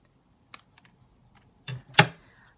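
Scissors snip paper for a junk journal, producing a few quiet, crisp cuts: one isolated snip, then two close together near the end, against an otherwise silent background.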